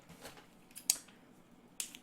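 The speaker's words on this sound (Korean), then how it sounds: "가위로 잘라가지고" Scissors snipping open a Cold Brew Master L coffee package: two quick, crisp cuts close by, a short pause between them, with faint rustling around them.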